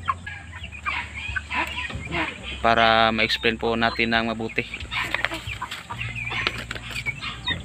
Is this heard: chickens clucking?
yes